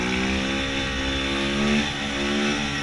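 Motorcycle engine revving hard during an attempted wheelie on a city street, a steady loud drone with rising and falling pitch, close by, with no talk.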